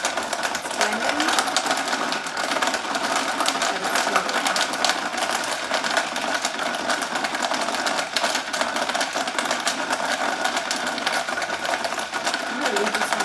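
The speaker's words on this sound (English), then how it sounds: "It's blending." A BlendJet portable blender grinds a few ice blocks, a steady high-pitched motor whir with rattling that runs continuously, close and fairly loud, while a person talks over it.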